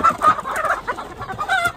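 Chickens cluck and squawk at a poultry market in Erbil, Kurdistan, with close, loud, choppy bursts of fowl calls in quick succession and no talk.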